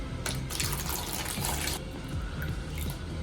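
Water poured into a container to measure out 561 ml for diluting black and white film developer, a steady splashing pour lasting a few seconds and fading to a lighter trickle.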